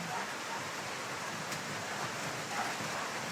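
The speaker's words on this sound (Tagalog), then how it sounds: "Yan, napakalakas po ng ulan, no? Nakahangin." Heavy rain pours in gusty wind, a steady, dense hiss and roar with no break over the few seconds.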